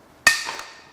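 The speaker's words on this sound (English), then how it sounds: "let's crack these head bolts loose" A wrench cracks loose a cylinder head bolt on an Audi 3.0 TFSI V6 engine: a single sharp, close metallic snap that rings briefly and fades.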